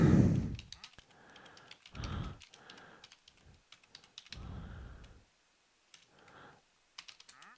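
Fingers tap on a computer keyboard while typing a search, in uneven bursts of close, crisp clicks separated by short pauses.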